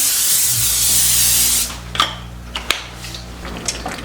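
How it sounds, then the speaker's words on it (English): Non-stick cooking spray sprayed onto foil in a kitchen, one loud continuous aerosol hiss lasting about a second and a half, followed by a few soft clicks and handling knocks. "We're going to go ahead and coat this with a non-stick spray"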